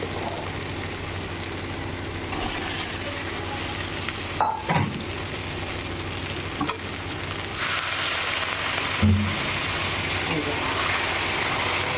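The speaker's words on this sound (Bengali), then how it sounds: "আমি ডিমগুলো একসাথে কষে নেবো।" Fried eggs are stirred into a spice paste that has released its oil, a steady close sizzle with a few spatula knocks and a low background hum.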